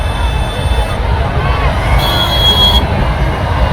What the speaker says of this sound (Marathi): पहा ही गर्दी